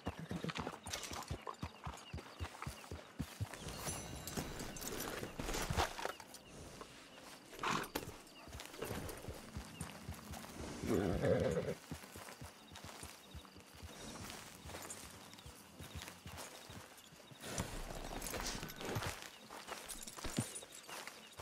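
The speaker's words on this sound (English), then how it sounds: "Strong horse you got there." Horse hooves clip-clop steadily in the Red Dead Redemption 2 video game, a continuous walking rhythm under game music and ambience, with a brief whinny partway through.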